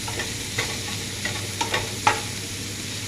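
Potatoes and vegetables sautéing in a pan for masala dosa filling, a soft continuous sizzle broken by a few sharp spatula scrapes and taps, close up with no talk.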